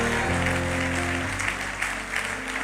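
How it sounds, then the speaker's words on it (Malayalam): A church congregation claps in thanks to the Lord during a Malayalam Christian sermon, sustained dense applause that gradually thins out. "ഒന്ന് കൈയടിച്ച് കർത്താവിന് നന്ദി പറഞ്ഞേ."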